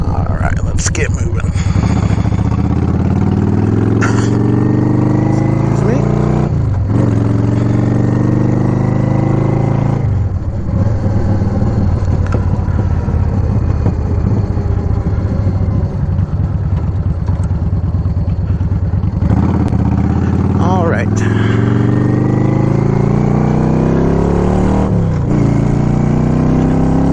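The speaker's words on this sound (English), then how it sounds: "Today we're just taking a quick ride up Riverdale Road." A car drives up Riverdale Road in Thornton, Colorado. Its loud engine climbs and drops as it accelerates through the gears, with steady road and wind roar, while a person talks throughout.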